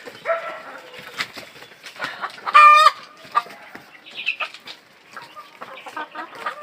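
Several roosters of about 3.5 to 4 kg cluck and squawk nearby in scattered bursts, with one louder crowing call in the middle and a quiet pause before the clucking resumes.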